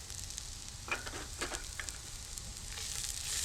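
Cashew nuts go into a pan of sautéing ginger, garlic and green chillies, giving a soft steady sizzle with a few faint stirring clicks, quiet and close.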